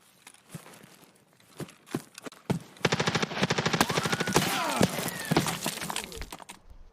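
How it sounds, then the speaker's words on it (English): M4 rifle fire in a first-person shooter video game: a few sharp isolated shots at first, then a sustained rapid automatic burst of dense, loud cracks, slightly muffled as if coming from one side. "I can hear that it was an M4 that was shooting him."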